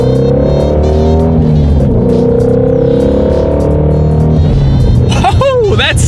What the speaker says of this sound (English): You can hear the clear difference with the flat plane crank that the GT350 comes with here